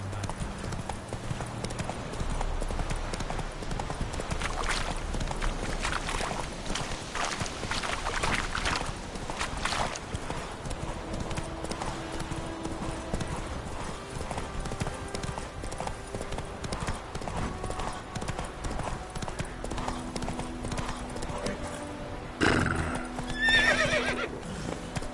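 Roach the horse in a video game, trotting with a steady clip-clop of hooves and an occasional whinny over faint ambient game sound.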